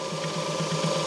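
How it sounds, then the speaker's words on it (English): The oil pump on a lubricant oil filtration unit runs with a steady mechanical hum and a fast, regular pulsing rattle, loud and close, with no one talking. "Oil pump start."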